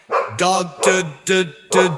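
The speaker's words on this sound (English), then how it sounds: "D is for dog" A dog barks four times in an even rhythm, each bark loud and close with a clear harmonic tone, the calls spaced roughly half a second apart.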